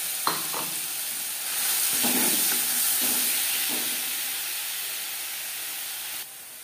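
Spices fry in hot mustard oil for an aloo chop filling, a loud continuous sizzling hiss with a few soft stirring knocks, steady throughout before dropping slightly at the end.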